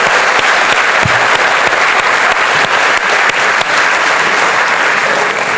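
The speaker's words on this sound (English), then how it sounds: "round of applause to Abdul Kalam" Audience applause for Abdul Kalam at a talk, a dense, steady wash of many hands clapping that stays loud and even throughout, with no speech over it.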